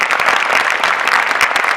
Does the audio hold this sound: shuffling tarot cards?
no